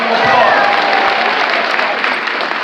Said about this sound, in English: Now sit down and give yourselves a great round of applause.